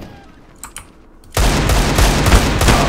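Desert Eagle pistol fire in the video game CS:GO, during a Dust II deathmatch: loud, dense gunfire starts abruptly after a quiet stretch with a few faint clicks and continues to the end.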